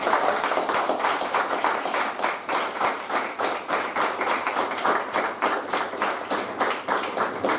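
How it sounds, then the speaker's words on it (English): Audience at an officers' installation ceremony applauds in a steady, rhythmic round of clapping, close and fairly loud, with a regular pulsing beat running throughout. "So can we give a big round of applause?"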